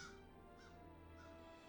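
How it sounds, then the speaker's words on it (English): Crows cawing outdoors, three faint, evenly spaced caws sounding from a distance over a steady background hum. "Can you guys hear the crows outside?"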